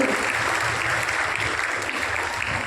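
Students applaud loudly to welcome a guest at a school event, a continuous burst of clapping from a large group.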